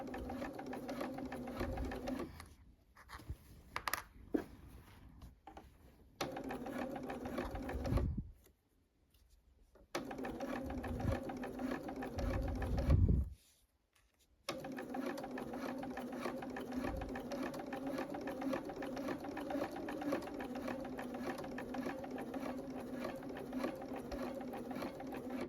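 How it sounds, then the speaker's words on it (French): A sewing machine topstitches a dress, running in a fast, close, continuous whir that is broken by a few short stops early on before a long steady run of stitching. "Si donc vous voulez faire comme moi une surpiqûre et non pas une sous-piqûre."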